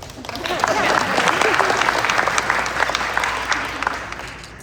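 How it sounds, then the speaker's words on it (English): At a school awards ceremony, an audience claps for a student named as a junior class officer: a thick, full burst of applause that swells and then gradually tapers off. "But applause for Sarut."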